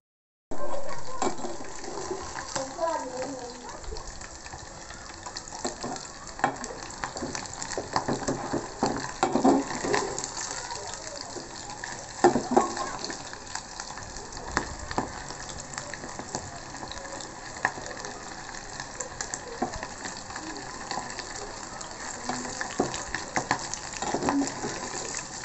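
Spiced sausage balls frying in a pan for a breakfast snack, giving a steady broadband sizzle and crackle that runs continuously throughout at moderate level, with no talk over it.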